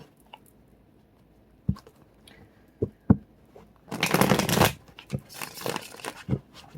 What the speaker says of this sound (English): Let me shuffle this up real quick